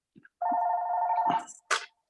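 A mobile phone rings in a meeting room during a town selectboard meeting, a sustained electronic ringtone tone lasting about a second, followed by a short bright burst, fairly quiet and heard alone.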